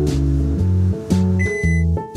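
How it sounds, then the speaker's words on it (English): A microwave oven runs while heating a cup of crayon wax for candles, its steady low hum broken by several loud tonal beeps and clunks in an uneven sequence. "Microwave your cup for about 45 seconds."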